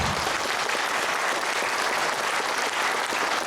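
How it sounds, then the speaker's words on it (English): A seminar audience applauds Benjamin Hart after his talk on Thai tax and visas, with steady, even clapping filling the room for a few seconds. "Big round of applause."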